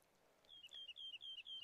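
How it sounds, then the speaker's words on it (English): Birdsong from an interactive website artwork: a series of five or six repeated bright chirping calls in an even rhythm, close and clear over a faint background hiss. "you hear birds, and if you move down, it starts to rain more"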